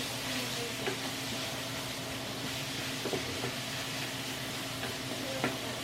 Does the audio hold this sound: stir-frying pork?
yes